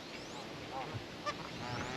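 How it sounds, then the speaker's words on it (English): Faint, distant honking and quacking from Canada geese, baby ducks and mallards over quiet outdoor ambience, with a voice at times. "So we got some baby ducks and Canada geese this time."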